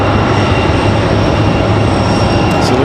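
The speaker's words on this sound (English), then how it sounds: "So it looks like JetBlue back to JFK." A JetBlue airliner at Raleigh-Durham International bound for JFK, a loud, dense, continuous jet engine roar close by that stays level throughout.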